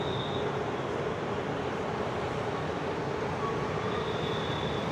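A Bangalore metro train passes with a steady, broad rumble and hiss that holds at an even level from start to finish, with no voices.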